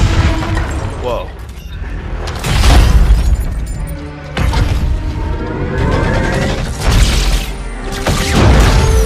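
Rocket explosions during a Halo 2 Anniversary cutscene come as loud, heavy booms and crashes with mechanical clatter, surging in several waves over a dense, sustained din, while voices speak over parts of it.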